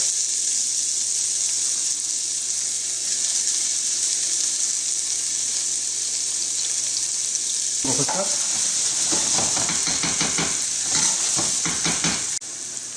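Chopped onion fries in oil in a pan for a calamari dish, giving a steady, loud, hissing sizzle. Later comes a burst of stirring with clattering spoon-on-pan sounds.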